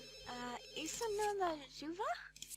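Phone ringing in The Sims 2, a repeated electronic ring heard early on, followed by a young-sounding voice talking over quiet game background.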